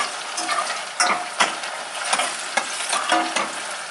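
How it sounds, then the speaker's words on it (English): Onions frying in a pan for Ghanaian apapransa, a continuous sizzle broken by rhythmic stirring scrapes and clacks of a utensil against the pan, close and fairly loud, with no speech. "So you let the onions fry up a bit"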